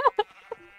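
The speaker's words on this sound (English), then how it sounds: "No, that's a sheep." A Minecraft sheep gives two short, quiet bleats followed by a fainter third, each brief and soft with gaps between.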